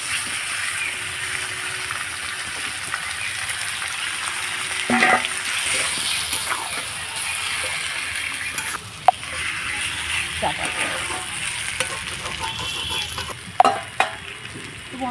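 Chicken pieces coated in spices frying with browned onions in a pan, a continuous loud sizzle with occasional spatula scrapes and knocks as it is stirred, close up with no one speaking.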